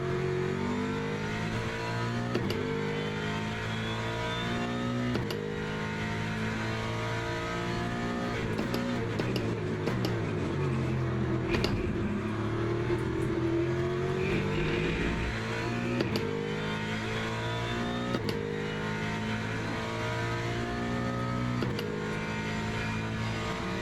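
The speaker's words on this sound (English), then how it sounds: "There's some faster cars approaching." Race cars in Le Mans Ultimate, including a Ford Mustang GT3 at Imola, with faster cars approaching. Engines roar and rev continuously, with shifting pitch as cars close in and pass nearby, and no voices.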